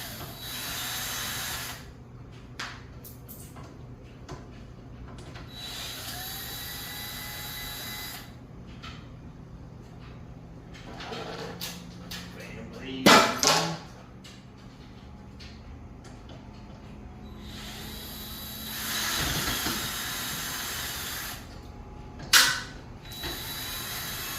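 Screws being backed out of a ceiling fan's blade arms, two per arm, heard as repeated ratcheting clicks and mechanical creaks in bursts separated by quiet gaps, with a couple of sharper clanks along the way.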